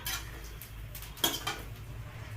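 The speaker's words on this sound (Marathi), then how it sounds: "तर हे पटापट पटापट भाजत आहेत. आता पटकन घेतो भाजून. याला हलवणं चालू ठेवायचं म्हणजे करपत नाही." Fresh green chickpeas being roasted and stirred in a pan, giving faint scattered clinks and scrapes of a utensil against metal, with one slightly sharper knock partway through.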